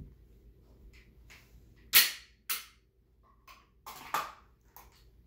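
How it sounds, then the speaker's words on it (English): Pistol handling on a duty belt: a magazine seats and the slide drops, heard as a few sharp metallic clacks and snaps, close and separated by quiet gaps, with no talk. "drop the slide."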